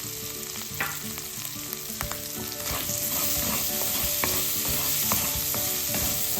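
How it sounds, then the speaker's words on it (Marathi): Potato pieces sizzle in hot oil in a pan as they are stirred during fasting-food cooking, giving a continuous close frying hiss with occasional scraping clinks, growing a bit louder midway, with no voices. "बटाटे हे चांगले तेलावरती परतूयात"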